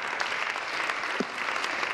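Applause in the Ontario legislature during Question Period, a steady wash of many hands clapping across the chamber, fairly loud and continuous with no talk over it.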